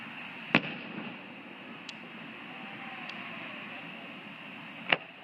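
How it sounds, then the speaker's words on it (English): Fireworks at night: two sharp, distant bangs several seconds apart, with a couple of fainter pops between them over a low, steady background hum. "This is good to relax and watch fireworks after you've been locked out of your condo for 4 hours."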